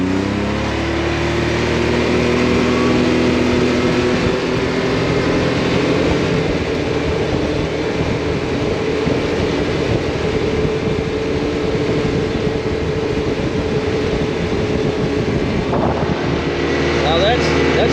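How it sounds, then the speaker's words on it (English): ATV fitted with ATX470 33-inch tires on System 3 SB-7 beadlock rims cruising on pavement at about 25 mph, a steady droning tire whir with engine hum and wind rush throughout, under occasional voices. "let's do a sound check when we're out on the road and see how loud these tires are in regards to the whir noise"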